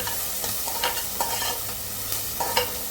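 Onions and tomatoes fry in a pan, giving a steady soft sizzle broken by regular scraping taps from a spoon or spatula as the mixture is stirred. No one speaks.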